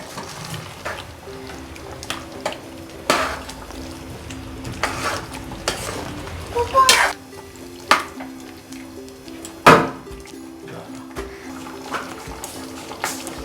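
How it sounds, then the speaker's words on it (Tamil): Peanut chicken gravy with coconut milk coming to a boil in a pan, a soft steady bubbling and sizzle with occasional sharp knocks of a spoon against the pan, quiet and close with no talking. "நல்லா கொதிக்க ஆரம்பிச்சிருச்சு."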